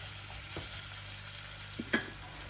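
Onions for pilau rice fry on high heat in a pan, a steady close sizzle with a couple of brief stirring scrapes and no talking.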